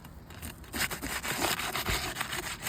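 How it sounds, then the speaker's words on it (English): Roof shingle being pried loose on a house roof, rough rasping scrapes and grinding rubs in quick irregular strokes, close and fairly loud. "We will start by loosening up the repair shingle right here."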